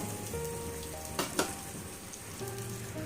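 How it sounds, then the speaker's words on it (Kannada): Garlic, onion, chillies and cloves fry in a pan for a home-style vegetable-free saaru, a steady soft sizzle with a couple of brief louder crackles, no talking. "ಸ್ವಲ್ಪ ಫ್ರೈ ಮಾಡೋಣ ಇದು ಸ್ವಲ್ಪ ಫ್ರೈ ಆಗ್ತಾ ಇರಲಿ"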